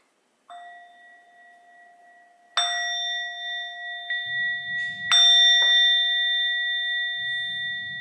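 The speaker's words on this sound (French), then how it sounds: "Je vais pas tarder à sonner la cloche." A meditation bell rung several times to close a practice session, each bright metallic strike ringing out with a long sustained tone that overlaps the next, near and clear, with faint low rumbles beneath.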